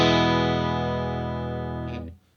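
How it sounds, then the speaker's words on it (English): A clean Fender Stratocaster played through a Fender Twin Reverb amp rings out as one sustained chord, loud and alone, then fades and cuts off after about two seconds. "I'm playing on a Fender Stratocaster through a Fender Twin Reverb."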